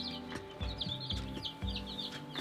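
Barred Rock chicks, newly brought home, give a quick run of soft clucks and peeps in short repeated bursts, close by and fairly quiet.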